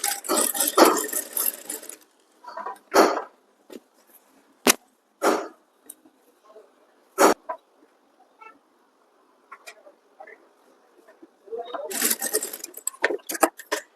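A sewing machine stitches the inner lining onto the main fabric of a princess cut blouse, running in loud, steady bursts at the start and end, with quieter scattered clicks and taps in between.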